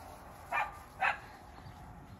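Cavalier dogs playing outdoors at sunrise give two short, separate barks about half a second apart, moderately close, over a faint steady background hum with no talking.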